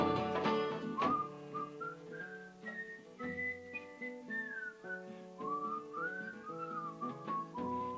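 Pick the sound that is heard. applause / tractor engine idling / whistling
whistling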